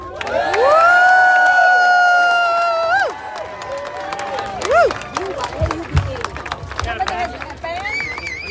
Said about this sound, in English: Ladies and gentlemen, give a round of applause to Arthur Polanski